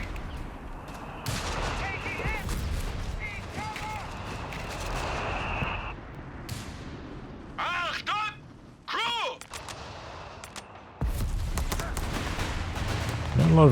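Gunfire and flak bursts from the Company of Heroes 3 strategy game in a 2v2 match, with dense rattling shots and sharp explosive bursts over a steady battlefield rumble.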